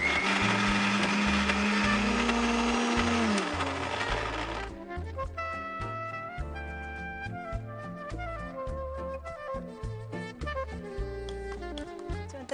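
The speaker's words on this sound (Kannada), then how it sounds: "ಮಿಕ್ಸಿ ಮಾಡಿ." Mixer grinder blending chutney with a few coriander leaves: a loud continuous motor whir that cuts off abruptly, followed by rhythmic instrumental music.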